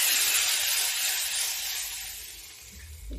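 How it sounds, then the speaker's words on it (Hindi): A smoking-hot tadka being poured into freshly cooked dal gives a loud, sustained sizzling hiss that slowly eases off, with a low rumble near the end. "अब देखिए हम इसमें लगा देते हैं ये देखिए ये तड़का,"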